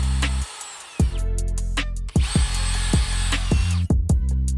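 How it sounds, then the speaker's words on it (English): A cordless drill with a variable speed trigger whirs loudly, its pitch rising and falling as the trigger is feathered, with a few sharp clicks and brief stops between bursts. "If you just smash the trigger down instantly, your drill bit will jump, wander across the surface,"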